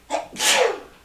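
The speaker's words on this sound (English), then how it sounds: "Gesundheit. Bless you." A single close sneeze: a short sharp intake followed by a loud breathy burst that fades out.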